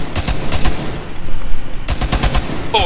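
Tachanka's mounted machine gun firing in Rainbow Six Siege, loud close rapid bursts separated by short pauses, with no talk.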